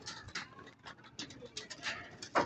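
Released hen pigeons coo softly in a loft, with low repeated throaty calls and faint rustling, close but quiet throughout the short stretch.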